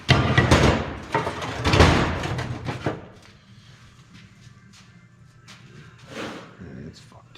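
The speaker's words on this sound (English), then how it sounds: "When in doubt, get a bigger hammer." Heavy hammer blows strike a 47RE automatic transmission during teardown, several loud metallic impacts in the first few seconds, then quieter workshop clatter with someone talking in the background.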